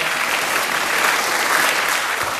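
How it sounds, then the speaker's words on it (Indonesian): Dense, steady applause fills a room at an entrepreneurship seminar, a crowd clapping loudly and evenly throughout without pause. "Tepuk tangan buat teman-teman semuanya"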